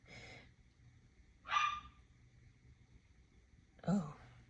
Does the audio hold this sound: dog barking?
yes